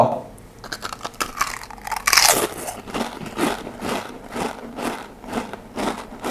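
Ligo potato chips being bitten and chewed up close, one sharp crunchy bite followed by a steady rhythm of loud, crisp chewing crunches.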